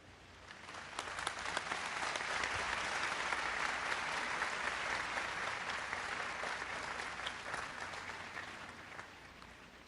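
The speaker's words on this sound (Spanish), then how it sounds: "Estos han sido los aplausos de los participantes en la misa con el Santo Padre en Contecar, en el puerto marítimo." Mass participants with Pope Francis at Contecar seaport in Cartagena applaud, a broad sustained wash of many hands clapping that swells and holds steadily for about ten seconds, heard from a distance without speech.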